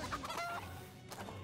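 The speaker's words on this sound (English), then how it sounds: "Let's just send the chickens in." Chickens cluck in South Park: Phone Destroyer, a mobile card battle game, layered over busy game music and effects at a steady level throughout.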